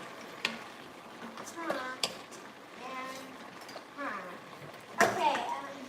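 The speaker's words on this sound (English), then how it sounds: "You hear that sizzle?" Sausage and peppers sizzle and crackle steadily in a pan while a person talks over it, with a few clinks of utensils.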